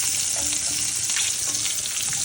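Prawns fry in a pan on low flame, giving a dense, bright sizzle with light crackle, close and steady for a couple of seconds with no voices.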